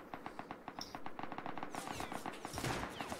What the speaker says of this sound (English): Oh, I'm getting shot at by two.